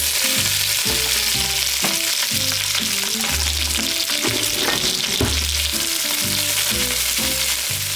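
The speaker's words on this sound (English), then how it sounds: "I'm gonna add a little bit of olive oil to the pan. And we're gonna get our peppers in there." Bell peppers fry in olive oil in a pan with a dense, loud sizzle that holds steady throughout, while background music plays over it.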